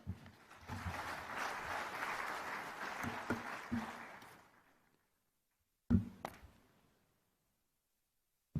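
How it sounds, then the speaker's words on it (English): Conference audience applauding, a broad steady wash of clapping that fades out after about four seconds, followed by a brief silence and a few scattered thuds. "One more round of applause for Colin Howell."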